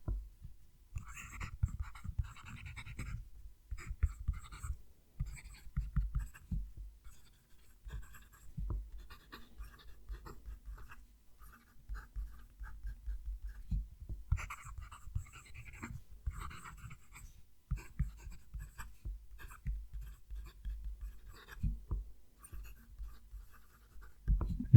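A handmade stub-nib fountain pen scratches across paper in short strokes and pauses, soft and close, with quiet scribbling rhythm and occasional breathy background noise.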